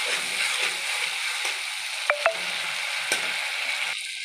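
Ginger garlic paste frying in hot oil with nigella seeds for a prawn and bottle gourd curry, a steady close sizzle with a few sharp clicks of a utensil against the pan.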